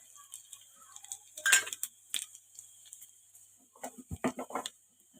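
Tempering seeds added to hot oil in a home kitchen, a sparse run of sharp close pops and spits, scattered at first and then coming in a quick cluster near the end, with no talking.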